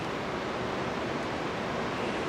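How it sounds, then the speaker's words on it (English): River rapids on the Gauley River in West Virginia give a steady, dense rushing roar of whitewater that stays even and unbroken throughout, with no voices. "Here are a set of rapids right down there, just right around the bend."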